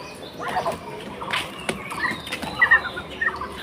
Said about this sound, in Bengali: এইগুলা সব চীনের হাঁস।